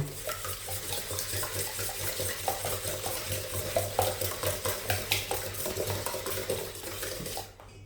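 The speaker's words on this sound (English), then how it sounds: "We're going to mix this around a little bit before we add the sugar" Eggs whisked in a bowl for brownie cake batter, the utensil scraping and clinking against the sides in steady, quick strokes close by, with a faint kitchen hum underneath and no talking.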